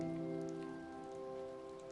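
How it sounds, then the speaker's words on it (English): Steady rain falls in an even, continuous hiss, with sustained soft musical tones humming underneath and no voices. "Walking in the Rain"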